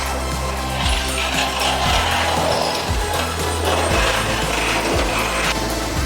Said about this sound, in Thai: ตอนนี้เราทำการเจาะชุดที่สองครับจะเสร็จแล้วครับ